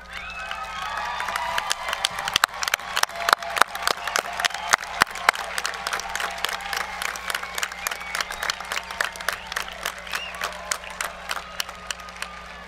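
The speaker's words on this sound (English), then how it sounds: "give your family a round of applause" Graduates at a university commencement turn and applaud their families, a large crowd clapping in a sustained, echoing wash with sharp individual claps and scattered cheers throughout.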